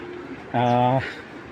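A pigeon gives one short, throaty coo, close and clear over a faint background hum, with no talking.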